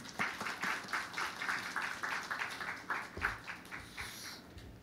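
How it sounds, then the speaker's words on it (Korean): A church congregation welcomes a missionary with applause, moderately loud clapping in a loose pulsing rhythm that swells and fades in waves. "우리 선교사님 박수로 환영합니다"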